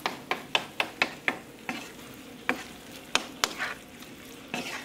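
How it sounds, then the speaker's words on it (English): Shrimp with tomatoes sizzle in a pan while a utensil stirs and scrapes, giving a series of sharp clacks over a steady frying hiss. Close up and fairly quiet, with no talking. "Just keep on cooking your shrimp until it's nice"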